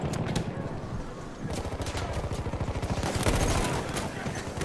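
Rapid bursts of Burton LMR rifle fire in the shooter game Battlefield 1, with closely spaced repeating shots that run in volleys across the whole clip and are loud and near.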